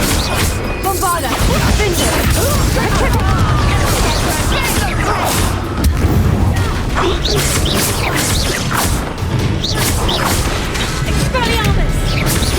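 Loud crashing and booming spell impacts from a Bombarda explosion spell in Hogwarts Legacy, mixed with clattering debris and whooshes in a dense, continuous battle soundscape, with voices shouting over the action.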